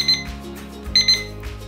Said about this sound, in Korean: 30초가 지나면 삐비빅 하고 울리겠죠?